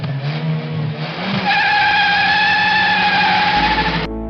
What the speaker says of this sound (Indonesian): Terdengarlah suara mobil yang sangat gahar, seolah-olah seperti mobil balap.